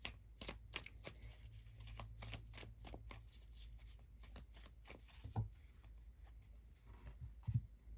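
Tarot cards from a Secrets of the Witch deck being shuffled by hand, a rapid run of crisp riffling flicks close to the microphone in a quiet room, with no talking.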